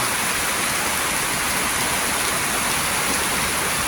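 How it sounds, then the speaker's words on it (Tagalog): Steady, heavy rain pours down continuously in the Philippines, a dense hiss with no voices or pauses. "ngayon dito malakas ang ulan"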